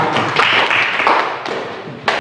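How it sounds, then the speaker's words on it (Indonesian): Classroom of students clapping together, a short burst of quick, uneven claps close by that fades and then ends with a few final hits. "Tepuk tangan untuk kita semua."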